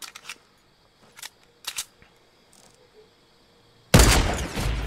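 Sniper rifle shots in a video game ring out as a few sharp, spaced cracks over faint ambient game sound, ending in a loud, sustained broadband blast or burst of noise.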